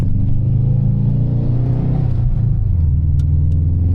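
A lowered Subaru STI's engine idles steadily with a low, continuous rumble, close and even throughout, with no voices.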